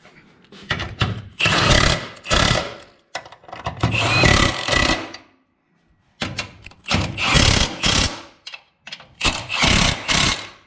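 A power tool with a 14 socket tightens subframe bolts on an LS-swapped BRZ in several loud, close bursts of buzzing, separated by short pauses.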